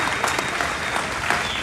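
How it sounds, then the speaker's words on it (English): Crowd applause at the Arizona National livestock show for the grand champion market winner, a continuous wash of clapping filling the whole moment. "How about a round of applause?"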